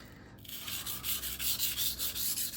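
A Fiskars chef knife is stroked across a double-sided 400/1000 whetstone in steady back-and-forth scraping passes, about seven even rubs after a brief pause, close and alone.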